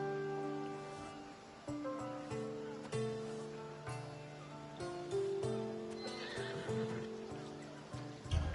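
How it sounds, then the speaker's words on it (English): Horse whinnying in the video game Assassin's Creed Odyssey, set in ancient Greece, heard over a sustained orchestral music bed, with faint hoof sounds and an ambient wash mixed in; no speech. "It's a very nice horse."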